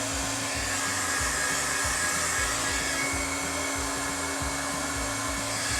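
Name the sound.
heat gun heating paper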